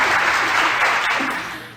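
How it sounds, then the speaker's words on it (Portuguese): A burst of applause from a clapping crowd, loud and dense, fading out toward the end, with no voices over it. "Palmas, edição!"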